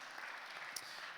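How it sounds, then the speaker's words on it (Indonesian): A church congregation claps together, a faint, distant, steady wash of applause with one brief sharper sound. "Mari kita berikan tepuk tangan buat Tuhan kita."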